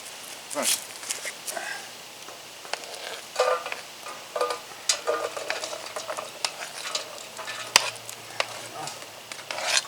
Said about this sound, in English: I've got one onion and one stalk of celery that I'm going to saute real fast